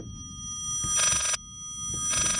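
A telephone rings in the horror video game Layers of Fear: two bursts of an electronic bell trill, separated by a pause, over a steady tonal ambient hum, fairly close and with no talking.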